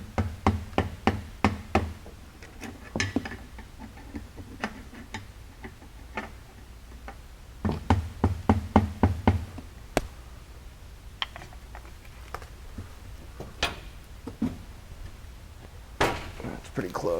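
Clamp knocked loose with sharp, repeated metallic raps during a skid plate install on a Can-Am X3 XRS side-by-side, close up, in quick bursts separated by pauses, with a voice talking at times.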